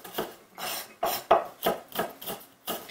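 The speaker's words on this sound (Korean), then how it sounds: "땅콩은 약간 입자가 이렇게 해서 이런 식으로 한 번씩 썰어주세요." Kitchen knife chopping shelled peanuts on a cutting board into coarse bits, a series of about eight crisp, evenly spaced thuds with a short rasp, close and clear with no talking.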